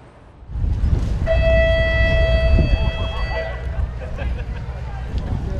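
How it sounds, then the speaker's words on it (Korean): A warning siren sounds at Swanage beach in southern England. It gives a single rising and falling wail of about two seconds, loud over the surf and outdoor background noise. "위험을 알리는 신호가 울립니다."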